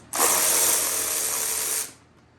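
A power tool whirs the 10mm seat bolts loose on a 2023 Yamaha YZ250F dirt bike. It is a single close, loud burst of about two seconds.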